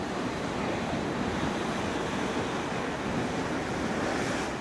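Ocean surf and wind at the coast make a steady, loud roar of breaking waves mixed with wind buffeting the microphone, continuous with no voices.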